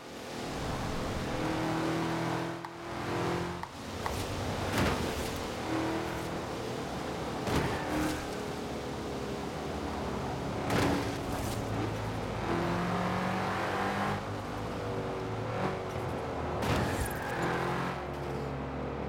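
Cars in Forza Horizon 4 race along a runway, engines revving and roaring continuously with repeated sharp thuds and bangs as vehicles bump and trade paint, plus occasional tire noise, loud and busy throughout.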